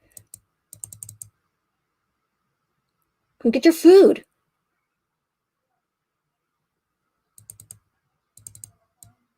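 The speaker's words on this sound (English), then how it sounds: "Sorry about the mouse clicks" Short bursts of light computer mouse clicking at the start and end, close and quiet, with a brief spoken line in between.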